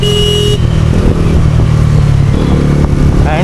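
A brand-new 2025 Bajaj Pulsar NS400 engine drones steadily up close with a deep, throbbing exhaust note, loud and continuous throughout.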